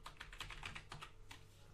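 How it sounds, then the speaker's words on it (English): Keys clatter on a computer keyboard as a meeting code is typed, a quick run of close, crisp clicks with no voice over them. "typing in a meeting code,"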